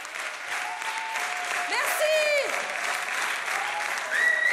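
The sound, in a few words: warm audience applause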